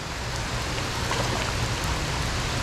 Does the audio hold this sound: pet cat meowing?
no